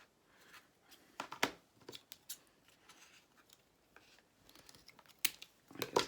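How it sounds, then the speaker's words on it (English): Scissors snipping out a small paper Christmas tag, a scattered run of quiet, uneven cuts with soft paper rustles between them, close and fairly faint. "Sorry this is taking me so long to cut this little thing out."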